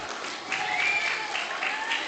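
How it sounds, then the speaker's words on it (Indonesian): Schoolchildren clapping together at an Islamic elementary school Ramadan program, a steady dense patter of many small hands that swells slightly midway and continues throughout, fairly close. "Terus lalu tepuk tangan."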